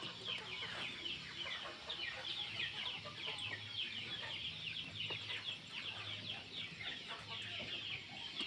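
Hmong village chickens cluck steadily and close by as they are driven into their coop for the night, a dense overlapping chorus of many birds with no talk.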